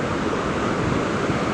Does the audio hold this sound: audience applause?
no